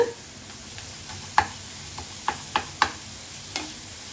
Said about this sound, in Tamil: நல்லா வாசனை போகிற வரைக்கும் இஞ்சி போட்டு ஸ்மெல் எல்லாம் பச்சை வாசனை போகிற வரைக்கும் நல்லா வதக்கிக்கோங்க